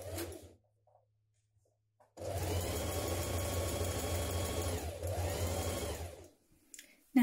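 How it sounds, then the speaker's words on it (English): Sewing machine running a dress side seam, a steady close motor hum lasting a few seconds with a short dip midway, bracketed by quiet handling sounds before and after. "Sew the seam in place."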